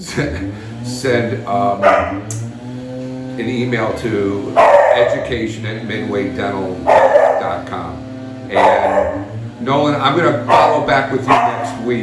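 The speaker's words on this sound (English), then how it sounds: "Sorry about the barking dog" A dog barks repeatedly in the background of an indoor business discussion, sharp yips and barks breaking through and overlapping continuous speech.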